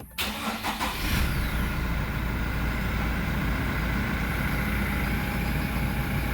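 A 2020 Toyota Hilux 4x4 engine cranks briefly, catches and settles into a steady, close idle that continues to the end.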